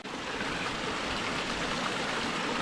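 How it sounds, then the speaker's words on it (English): Fresh mountain stream water flowing steadily outdoors on a hiking climb, a continuous close rushing wash with no voices over it. "I've come across some proper mountain water"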